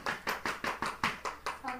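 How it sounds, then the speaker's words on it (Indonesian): A classroom group claps in unison, about eight sharp, evenly spaced claps in a quick rhythm, close and fairly quiet, ending with a brief voice. "Tepuk tangan"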